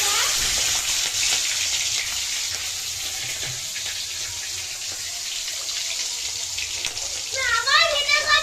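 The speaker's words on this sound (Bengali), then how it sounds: "চিংড়ি মাছ ভাজা চলছে" Prawns frying in hot oil in a home kitchen give a steady, bright sizzle that runs the whole time, with a voice speaking near the end.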